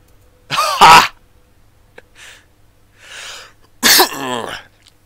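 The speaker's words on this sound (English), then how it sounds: "Sorry to ruin the moment with that cough" Several short, harsh bursts of coughing and throat clearing, with quiet gaps between them and a louder fit at the end, heard close and alone.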